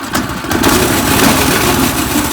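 A small engine on a home-built drift trike idles steadily and close by, a continuous buzzing putter that holds even from start to finish with no talking.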